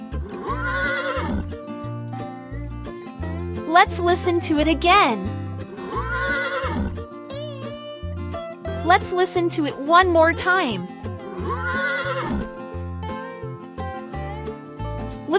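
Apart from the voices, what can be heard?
horse neighing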